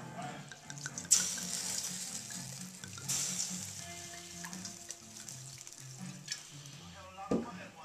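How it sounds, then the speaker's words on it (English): Wine pours and splashes into a hot pan, sizzling steadily close by, with a few clinks of utensils and faint background hum. "Now I can just pour the rest of this wine in here."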